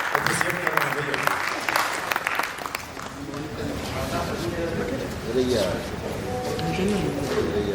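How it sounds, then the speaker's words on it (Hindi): Audience clapping for the performers after a Hindi stage play, a dense steady patter of many hands running throughout, with a voice speaking over it. "तालियां बजा दीजिए एक बार सारे कलाकारों के लिए"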